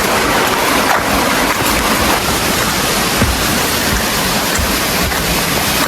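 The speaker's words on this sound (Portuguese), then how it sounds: "Chegamos aqui na terceira cachoeira. Aí embaixo tem um rio, né?" A waterfall on the Paraíso falls complex in the Serra da Canastra pours into a river below, a loud, steady, broadband roar of rushing water filling the whole clip.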